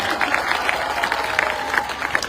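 A crowd claps at the closing ceremony of the Dausa Dairy Premier League, brisk scattered applause that stays fairly close and steady, with faint voices underneath.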